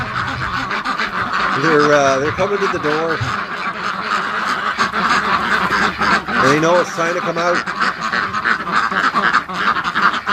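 Ducks crowd toward a farmyard gate, letting out two bursts of nasal quacking calls close by, while a person talks over steady outdoor background noise.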